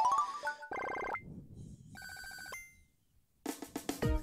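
A cell phone rings in the video game Tomodachi Life, giving a faint, bright electronic ringtone in several short melodic bursts separated by brief gaps.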